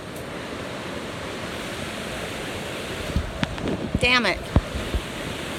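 Steady rushing river water fills the scene, loud and close, with a brief muttered voice and a few knocks near the end.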